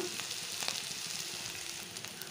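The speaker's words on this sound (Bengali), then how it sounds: "এখন মাছের ডিমটা দিয়ে একটু আমি ভাজা মতন করে" Fish roe sizzles continuously in oil in a pan with soft crackles and a few faint pops, low in level and with no voices.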